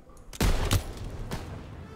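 Gunfire in the Call of Duty WWII campaign: a loud, close burst of shots followed by a couple of fainter reports that fade into background rumble.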